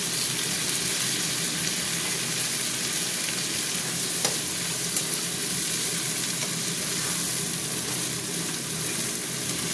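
Onions, green peas and chicken fry in a pan for a Bengali peas-and-chicken curry, with a loud, continuous close-up sizzle and faint stirring throughout, no voices.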